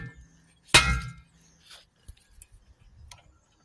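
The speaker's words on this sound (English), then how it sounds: "when you hit it with a hammer, it goes in and shocks it around" A hammer strikes an impact driver set on a brake disc retaining screw, giving one sharp, loud metallic clang followed by a few faint clicks and small knocks in an otherwise quiet space.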